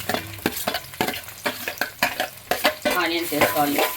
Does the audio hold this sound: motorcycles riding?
no